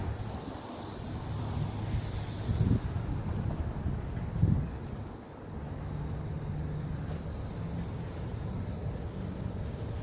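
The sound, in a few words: wind blowing on microphone outdoors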